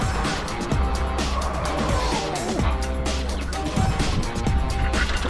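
A vehicle rattles and rumbles steadily along a bumpy washboard dirt road on a mountain drive, with continuous loud road noise and jolting bumps throughout.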